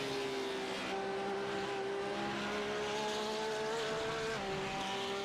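Porsche race cars run laps at Sebring in the iRacing simulator, sustained high-pitched engine whine with tonal notes shifting as cars pass, a continuous layered roar with no voices.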